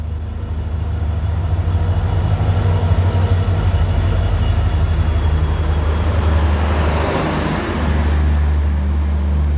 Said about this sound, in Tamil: ஃபைவ் மினிட்ஸ் லேட்டில் ட்ரெயின் உள்ளே நுழைய ஆரம்பிச்சிடுச்சு.